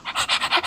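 A dog gives a quick series of about six rapid, breathy rasping pants or snuffles, close and clear, all within under a second.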